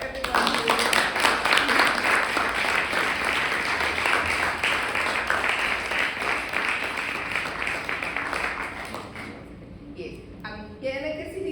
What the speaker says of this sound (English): So let's give a round of applause for everyone.